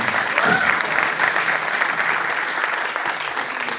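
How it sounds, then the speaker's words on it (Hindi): An audience at a 3D animated film trailer launch applauds steadily and fairly loudly, a dense continuous wash of clapping lasting the full few seconds. "पहले तो तालियां होनी चाहिए"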